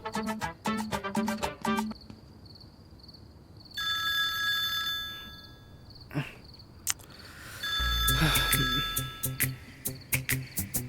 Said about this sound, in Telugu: ఇదేంటి టైం కాల్ చేసింది?